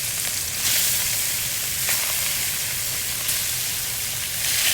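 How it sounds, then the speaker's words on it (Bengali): Pieces of fish sizzle steadily in hot oil in a pan, a close, even crackling hiss that runs without a break and with no talking. "ভাজা নিতেছি।"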